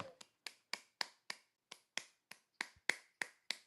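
A hand clapper mimics a toy monkey with about a dozen sharp, evenly spaced claps in a steady rhythm, close and crisp, with no talking.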